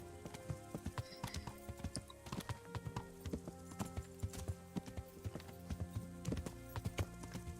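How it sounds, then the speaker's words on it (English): Hooves clip-clop faintly and irregularly from a horse, soft hollow knocks scattered among low humming tones and quiet background noise. "Åh, horsey."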